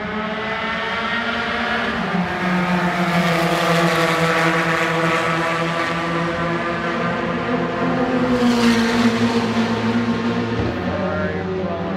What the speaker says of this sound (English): Ferrari rolling by, going up the hill.